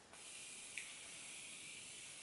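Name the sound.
continuous spray on face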